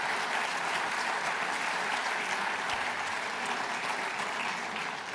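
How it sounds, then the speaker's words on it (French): A hall audience applauds a guest at a conference introduction, dense sustained clapping throughout, loud and even, easing slightly at the end with no voices over it. "Je vous avais dit, Madame, que vous seriez applaudie. Vous l'avez été avec ferveur"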